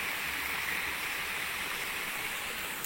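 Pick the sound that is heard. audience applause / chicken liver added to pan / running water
running water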